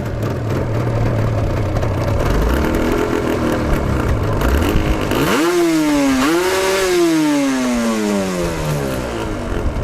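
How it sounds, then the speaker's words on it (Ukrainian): A 1985 Yamaha TZR 250 two-stroke motorcycle engine idles while warming up, a loud buzzing drone close by that swells into a brief rising and falling rev midway before settling back down. "Доволі тихенько вона працює. Треба прогрівати."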